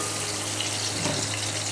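Sliced onions frying in oil with whole spices in a kadhai, giving a dense, steady sizzling hiss throughout, close and fairly loud, with no talking.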